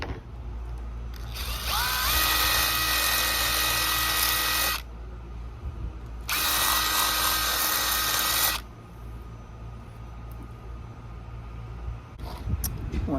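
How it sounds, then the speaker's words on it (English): A power tool drills out bolt holes in a hard trifold tonneau cover for a Nissan Frontier, running in two loud, close bursts of several seconds each, whining steadily over a low background hum. "Now I have some power tools here that I'm going to be using to fix it."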